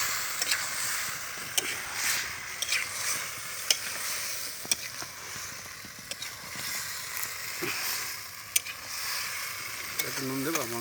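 Small chicken pieces frying in a pan for a mushroom chicken dish, a steady close sizzle with intermittent clicks and scrapes of stirring throughout.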